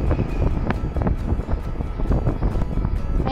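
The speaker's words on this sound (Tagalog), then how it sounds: "Pero mas malakas yung hangin dito." Strong, steady wind buffeting the microphone during a 200 km cycling ride in Subic, a continuous low roar with gusty rumbles throughout, no voices.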